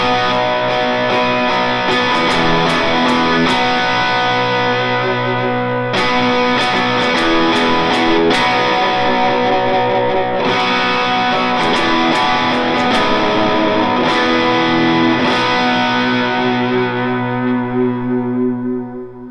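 Electric guitar chords for a worship song bridge played through a Line 6 Helix, driven and washed in echo and chorus, strummed in repeated bursts with sharp attacks, loud and close with no talking.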